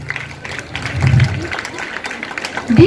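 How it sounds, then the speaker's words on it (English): Audience applause at a school investiture ceremony, a loose patter of clapping hands in a large hall, moderately loud and brief, with a voice speaking over it. "applause, please."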